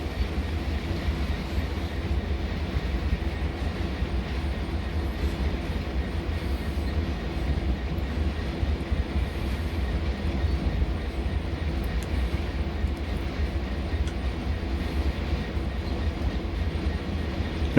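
Steady low rumble of an HST diesel train running along the line in Train Sim World's Great Western Express route, a continuous engine drone and rolling noise with no talk.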